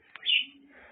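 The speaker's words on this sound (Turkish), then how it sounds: "O kuş sesi benim kuştan geliyor." A single short bird chirp, bright and fairly close, followed by quiet low background noise.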